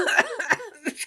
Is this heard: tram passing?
no